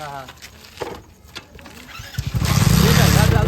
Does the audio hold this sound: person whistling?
no